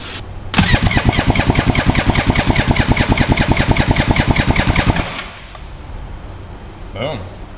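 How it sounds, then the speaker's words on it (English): A Sea-Doo XP jet ski engine cranks over on the starter during a compression test, a loud, rapid, even chugging for about four and a half seconds, then stopping. A faint voice follows. "I've just been cranking this thing just to make sure, and it's got 130 psi"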